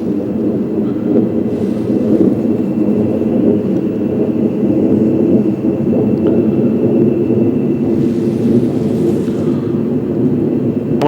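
Military jet aircraft passing overhead in the evening sky over Fresno, a steady, loud, continuous roar that builds slightly toward the end, with no talking.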